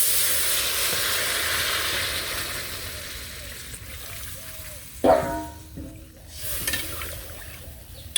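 Gravy is poured into a sizzling vegetable curry of turnip, flat beans, eggplant, potato and radish. A strong steam hiss fades over several seconds, followed by a few brief splashing and clattering bursts.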